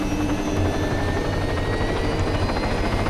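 Helicopter in the video game Arma III, a steady loud rotor thrum over a constant engine whine that holds unchanged throughout, with no talking.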